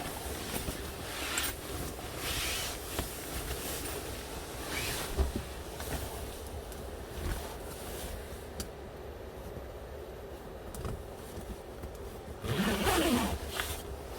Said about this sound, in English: Now we're going to zip these in.